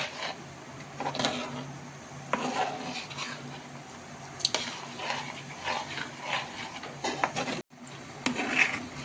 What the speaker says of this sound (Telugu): ఇలా బాగా అన్నీ మిక్స్ చేసేసుకోవాలండి ఈ పోపులో